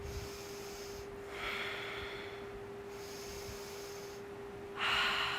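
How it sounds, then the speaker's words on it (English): Deep breathing during a yoga balance flow. Slow inhales and exhales come close to the microphone, each lasting around a second with pauses between them, and a faint steady hum sits underneath. "3 deep breaths"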